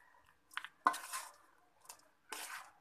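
Garlic rice (chitranna) being mixed in a pan, a few quiet scraping and clinking strokes of a spoon against metal, separated by brief pauses, with no talk.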